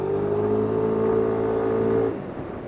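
A Yamaha Tricity 155 scooter engine revs loud and close as the throttle is opened and held, the steady harmonic whine rising slightly before dropping off sharply when the throttle closes.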